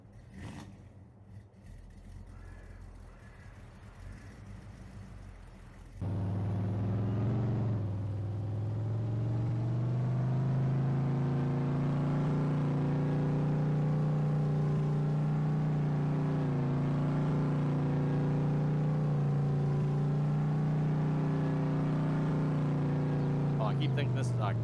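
A farm vehicle engine drives across a field in Farming Simulator 22, a steady low droning rumble that rises in level after a few seconds and holds continuously, with someone talking over it.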